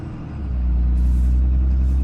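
A diesel truck's engine rumbles deep and steady close by, rising in loudness as it pulls away gently and climbs toward third gear, with a hiss of air partway through.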